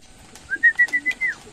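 A pigeon at feeding time gives a close, clear call: a run of five rhythmic, whistling cooing pulses over about a second, alone against a quiet background.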